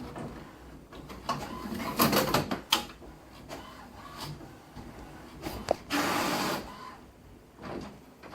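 An HP Officejet Pro 7740 printer runs its alignment, with mechanical whirring, clicks and carriage movements in uneven bursts, close by and without voices.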